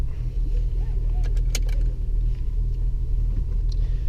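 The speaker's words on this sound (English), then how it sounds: "I'll try and show you what it's like to drive a 430 kilowatt manual transmission" A 430 kW manual-transmission 2016 HSV GTS V8 muscle car rumbles steadily from inside the cabin while driving, a deep continuous low engine drone with a few faint clicks over it.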